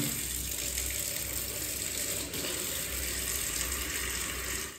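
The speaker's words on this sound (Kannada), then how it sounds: "ನೀರು ಬಿಟ್ಟಿದ್ದೀನಿ, ಬಿಸಿನೀರು ಬರ್ತಿದೆಯೋ ಗೊತ್ತಿಲ್ಲ." Lukewarm water gushes steadily from a tap into a tub being filled for an iguana's bath, a close, constant rushing splash with no voices.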